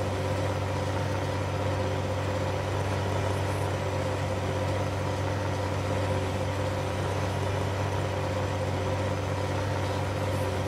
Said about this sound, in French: il y a un bon son de votre tracteur